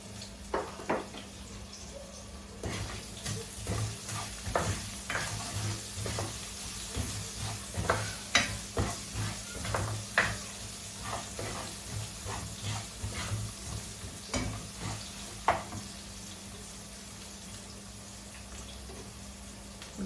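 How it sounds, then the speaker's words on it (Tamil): About 95 grams of onions hit a pan of hot oil with popped mustard seeds for a wet jackfruit curry. A steady bubbling sizzle runs throughout, scattered with sharp crackles and pops and a few stirring scrapes, with no talking. "இப்போ நான் தொண்ணூத்தஞ்சு கிராம் வெங்காயம் பற்றி வச்சிருக்கிறேன் இப்போ அதை போட போகிறேன்"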